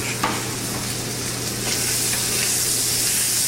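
House-made garlic andouille sausage sizzles in hot bacon grease, a loud, steady, close frying hiss with faint stirring scrapes and no talk.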